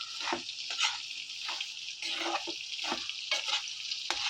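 Ginger garlic paste frying in a pan for a non-veg dish, with a bright continuous sizzle and repeated scraping stirs, roughly one every half second, close and clear with no talking.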